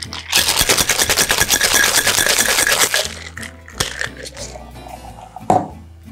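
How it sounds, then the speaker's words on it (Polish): A cocktail shaker packed with ice rattles in rapid, loud rhythmic shakes for about three seconds, followed by a few scattered clinks and knocks of ice and metal. "Teraz oczywiście shaker uzupełniamy lodem."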